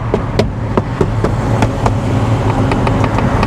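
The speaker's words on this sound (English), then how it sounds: "Everything is so rattly. I don't know if it's just the roof or there's like more bits that are rattling." A kei car's roof rattling while driving, a steady stream of clicks and knocks close by, repeated at irregular short intervals over a low engine and road rumble.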